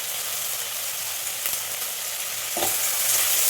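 Onion and green chili sauté in a pan for an okra curry. A short, even sizzle runs throughout, with a brief scrape of stirring near the end.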